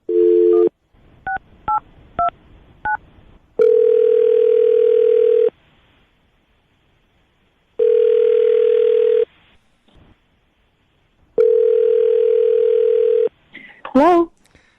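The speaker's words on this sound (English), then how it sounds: "I will dial her phone number right now." A telephone line plays a quick run of touch-tone dialing beeps, then long steady ringback tones separated by silences, loud and clear, before a brief garbled burst at the end.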